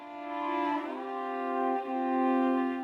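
Pathfinder violin plugin chord with layered voices sliding apart, one pitch gliding down as another glides up, sustained bowed tones held steady and fairly quiet throughout.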